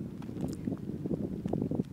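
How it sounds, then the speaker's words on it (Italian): Steady low buffeting rumble of wind hitting a microphone on a dry island, continuous and fairly loud, with faint scattered clatter underneath. "perdonatemi per il vento"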